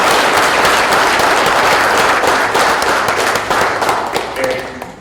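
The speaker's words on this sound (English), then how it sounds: "And I want to give everybody a big round of applause." An audience claps loudly at a community event honoring elders, a dense, close round of applause that holds steady and then thins out near the end.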